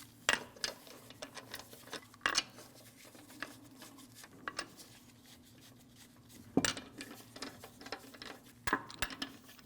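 Lug nuts are snugged onto the wheel studs of a 2012-2016 Honda CR-V 2.4L; faint, irregular ratchet-like clicks and metallic ticks come in scattered bursts over a quiet background.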